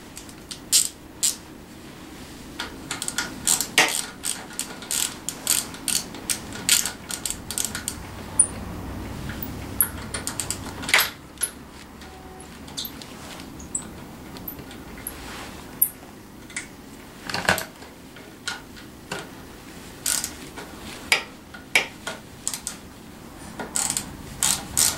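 A hand ratchet with an 8mm socket works bolts loose on a Tao Tao 90 dirt bike, giving close, repeated clicking bursts with small metallic knocks and pauses between strokes.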